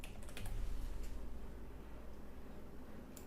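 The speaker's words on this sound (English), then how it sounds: "we want to type Yinsun" Computer keyboard typing at a trading dashboard, a quick burst of clicks at the start and another near the end over a steady low hum, fairly faint and with no one talking.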